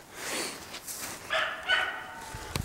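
Hunting dogs chasing a hare give a few faint, distant barks and yips across a short quiet outdoor stretch.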